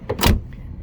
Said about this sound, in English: these doors close with such authority